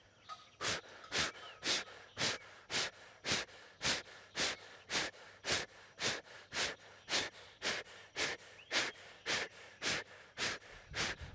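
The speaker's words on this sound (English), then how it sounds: "Exhale fully. First Kapalabhati." Kapalabhati yoga breathing: a steady run of about twenty forceful, sharp exhales through the nose at a quick, even pace, close and alone without talk.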